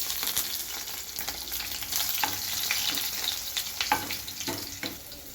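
Crushed garlic crackles and sizzles steadily in hot oil, with scattered sharp pops over a bright continuous hiss and no voices.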